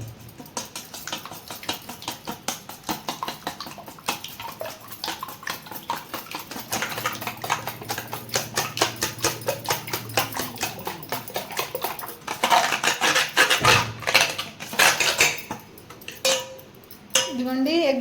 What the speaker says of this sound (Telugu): ఇదిగోండి, ఎగ్ అయితే కలిపేసుకున్నాం.